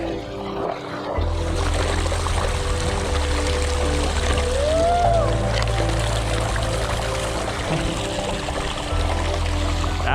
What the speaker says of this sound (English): That's a waterfall now.